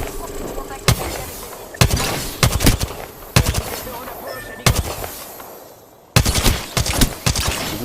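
Sharp, loud bursts of gunfire in the video game Apex Legends, rapid clustered shots broken by short pauses, with a voice speaking between the volleys.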